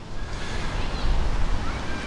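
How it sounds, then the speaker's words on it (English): Steady low rumbling buffeting across the whole clip, gusty wind hitting a microphone outdoors on a walk near Combe Abbey, with no clear voices. "Been very windy today. I don't know whether you'll hear me very well."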